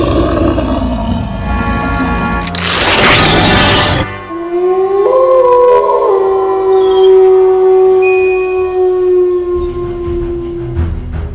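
A drawn-out, wavering howl rises and slowly falls away, loud and close, after a brief burst of harsh noise.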